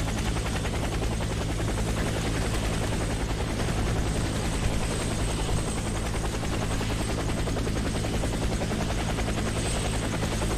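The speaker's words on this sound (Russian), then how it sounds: "Вертолет скоро будет." Helicopter arriving in the shooter game Warface, a loud, steady rotor thrum and engine whine filling the scene continuously without pause, no talk heard.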